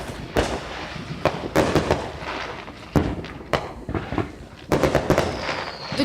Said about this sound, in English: I'm making a video of the fireworks.